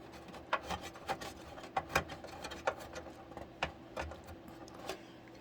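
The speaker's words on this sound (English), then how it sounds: "So I just put a screwdriver in just to loosen it up a little bit." Screwdriver working a stiff screw loose on a new Phanteks Enthoo Pro 2 full-tower computer case, with sharp scattered clicks and rasping scrapes in an irregular rhythm, close and fairly quiet with no talk.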